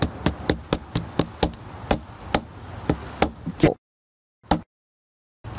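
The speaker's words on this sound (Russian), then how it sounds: "острой частью молоточка, мы придаем радиус" A small hammer taps the blade of a metal spinning lure to bend it, giving a rapid run of sharp, close metallic strikes, then a pause, one more tap and a final hit.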